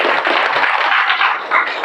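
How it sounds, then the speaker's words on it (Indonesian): Classroom applause for a student after a long-jump lesson, a dense continuous patter of many hands clapping close by with no break, filling the short stretch on its own. "Tepuk tangan untuk Cheryl"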